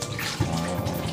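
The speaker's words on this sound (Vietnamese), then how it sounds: "rồi bây giờ mình phải tháo ra, mình xả nước đi nhá" Water runs from a kitchen tap to rinse small fish, a short close splashing gush with no talking.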